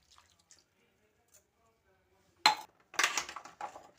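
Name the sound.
salt water poured over boiled peanuts in shells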